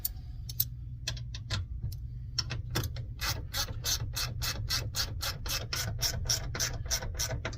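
A ratchet tightens bolts on the ball door of a Brunswick GSX bowling pinsetter, giving close, steady clicking strokes that start sparse and then run in a quick, even rhythm over a low hum of machinery.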